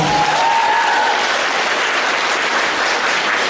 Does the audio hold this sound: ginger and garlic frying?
no